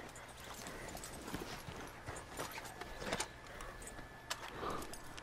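Horse hooves clip-clop in a video game, a faint, steady patter of hoofbeats under a dense, noisy background.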